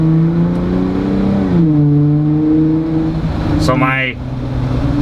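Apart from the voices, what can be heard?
Jeep Wrangler exhaust while accelerating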